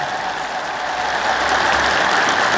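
A church congregation claps on a preacher's request, steady dense applause filling the space and swelling slightly louder toward the end, no voices over it.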